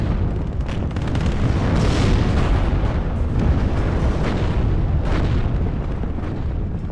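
Bombing run in WARNO, a 2v2 multiplayer battle, with dense rumbling explosions and booming impacts overlapping into a continuous loud roar, several sharper blasts standing out.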